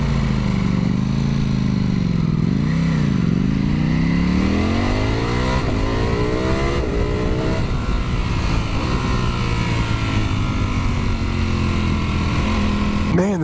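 A Ducati Panigale V4 motorcycle is ridden hard and accelerates, its loud engine note climbing through revs and gear changes up close.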